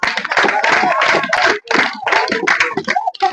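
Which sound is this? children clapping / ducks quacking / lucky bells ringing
children clapping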